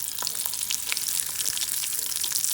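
Close, crackling sizzle of chillies frying in oil for a tadka on achari moong dal, with sharp pops scattered through a continuous hiss.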